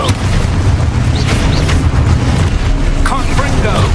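A spell-driven blast in the Hogwarts Legacy video game sounds over a dense, continuous low rumble of game effects, with brief bright crackles and bursts layered on top. The level stays loud and steady throughout, and spell names are shouted nearby.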